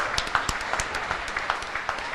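A small crowd at a convention opening applauds, with scattered claps forming a steady, moderately loud patter.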